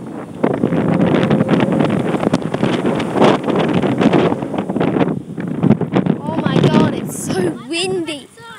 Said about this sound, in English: So windy out here.